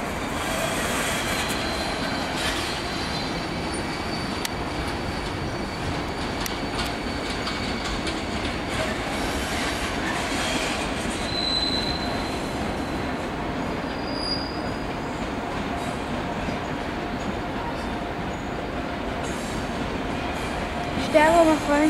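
A Zurich S-Bahn suburban train rolls along the tracks with a steady rumble, faint squeals and clicks, and a German station announcement voice partly audible.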